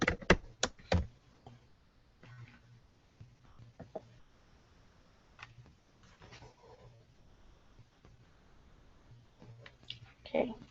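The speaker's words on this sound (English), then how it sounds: "all I have to do is double click on the word and type in the new ones" Typing on a computer keyboard while editing words in an online design tool, a few sharp close clicks at the start, then sparse soft keystrokes scattered over quiet background.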